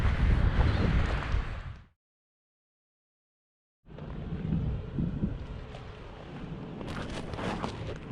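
Strong wind blows in Tucson, Arizona, a gusty roar buffeting the microphone outdoors that cuts out completely for about two seconds and then returns, rougher and crackling.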